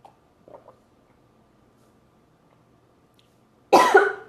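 One person gives a burst of harsh, close coughs near the end after a few faint throat sounds in an otherwise quiet room; no speech.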